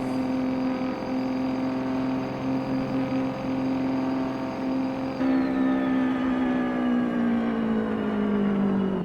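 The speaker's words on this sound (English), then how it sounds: "The engine brake does not sound correct." A custom Peterbilt truck in American Truck Simulator drones with a steady engine brake, a loud tonal rumble holding even before shifting pitch midway and slowly winding down, with no voices over it.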